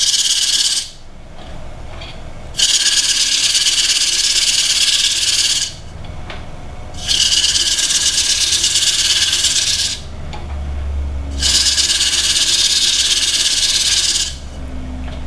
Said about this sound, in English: So I'm just gonna sand with straight mineral oil